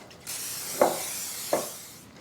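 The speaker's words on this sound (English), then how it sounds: "I'm going to lightly grease it with some vegetable spray." Vegetable oil cooking spray greasing a clean bowl, a sustained aerosol hiss with two short sharper bursts from the can, close and alone.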